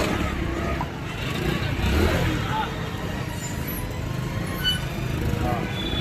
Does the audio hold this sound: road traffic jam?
yes